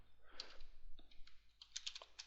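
Faint, close clicks of a computer keyboard as a few quick bursts of typing tap out irregularly.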